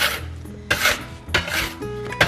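A metal dough scraper rasps and scrapes across a work surface, loosening freshly made Italian bread dough in three broad scraping strokes with short pauses between, close and fairly loud with no talk.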